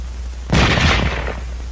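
A firearm cartridge fires once as a single sharp blast with a short rumbling decay, heard over a steady low hum.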